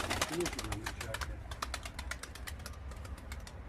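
Pigeons cooing softly amid flapping wings and a series of sharp clicking taps, with outdoor rumble and a voice nearby.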